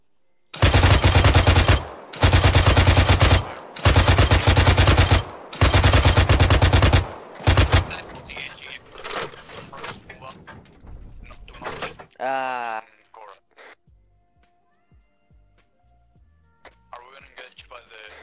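Bursts of loud, rapid machine gun fire in a military video game, four long close volleys in a row, then scattered shots, clanks and mechanical game sounds as the firing trails off.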